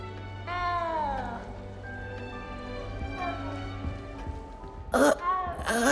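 A frightened little cat meows repeatedly inside a big castle in Hogwarts Legacy, several drawn-out mews close by over a low ambient hum, with a couple of sharper, louder cries near the end.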